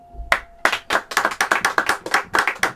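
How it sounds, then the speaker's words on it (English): A comedy show audience claps, beginning with a single clap, then a fast run of close, sharp handclaps in a steady rhythm that sound like a small crowd. "Thank you all for the wonderful round of applause"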